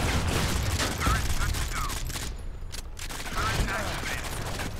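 Rapid gunfire in the shooter game Modern Combat 5, bursts of shots and mechanical clatter crowding the whole stretch, loud and dense, with a brief lull in the middle.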